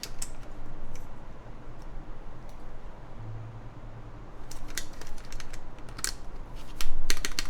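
Spacebar on a Dalco 959 mechanical keyboard build pressed repeatedly, giving sharp close clacks in irregular bursts over a constant background hum, busiest toward the end.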